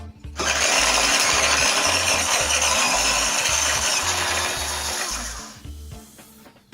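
A vegetable chopper whirs loudly and steadily for about five seconds as it minces garlic inside its closed food container, then winds down and stops.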